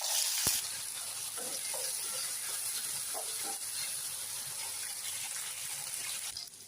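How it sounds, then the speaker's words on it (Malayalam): Shallots fry steadily in a pan for a village-style chicken curry, a faint continuous sizzle and hiss with light stirring clicks and no voices. "അങ്ങനെ നമ്മുടെ ഉള്ളിയൊക്കെ നന്നായിട്ട് വഴണ്ടിട്ടുണ്ട്"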